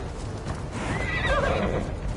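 A horse in Assassin's Creed Valhalla gallops with hooves drumming steadily while a drawn-out neigh rises over the running, loud and close, with no speech.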